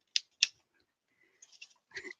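Scissors snip paper in two sharp cuts followed by a few lighter snips and a final rustling cut, close and clear in a quiet room during a card-crafting session.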